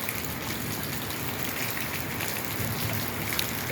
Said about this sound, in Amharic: የሀገራችን ዝናብ ይሄንን ይመስላል ማለት ነው።